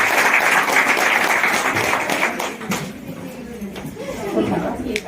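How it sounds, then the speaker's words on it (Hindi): A crowd applauds at a political rally welcoming candidates, dense clapping and crowd noise that is loud at first and thins gradually over the seconds. "इनका भी जोरदार तालियों से स्वागत करें।"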